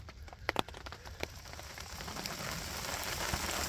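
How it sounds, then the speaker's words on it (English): Rain falling on leaves in the woods near a solo campsite, a dense steady patter that grows heavier and louder over the seconds, with a few sharper drop hits early on. "now that the rain has begun and it's starting to get a little bit heavier"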